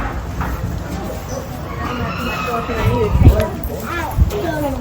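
A rooster at a stockyard clucks and calls in short bursts close by, mixed with people talking and background farm noise.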